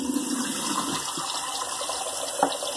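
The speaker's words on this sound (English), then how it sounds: "Sorry about the running water." Tap water runs steadily into a bathroom sink, a continuous close hiss and splash that stays at an even level throughout, with a brief clunk near the end.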